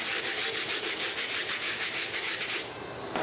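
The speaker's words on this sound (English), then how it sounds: "I'm gonna go back in with the wire tip bristle brush, see if I can grab all that" Stiff wire-bristle brush scrubbing softened adhesive off a $350 Fire Red 5's sneaker, a rapid, steady rasping back-and-forth close up, with no voices.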